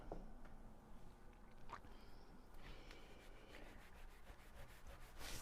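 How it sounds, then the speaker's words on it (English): An eraser rubs out a pencil line on watercolor paper in quick, soft, scratchy back-and-forth strokes, close and faint. "I'm going to use an eraser on this."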